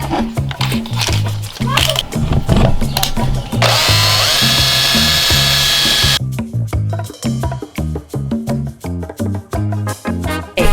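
A power drill drills slots in a van for a steady burst of a few seconds in the middle, surrounded by a rhythmic beat of background music.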